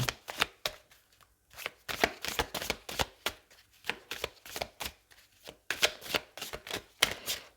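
A deck of tarot cards is shuffled by hand, producing a close, steady run of rapid riffling flutters in short repeated bursts with brief gaps between them.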